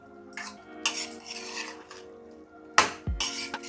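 Bombil fish being mixed with salt and turmeric in a metal dish, with a few bursts of scraping and stirring and clinks of utensil against the dish, separated by short pauses.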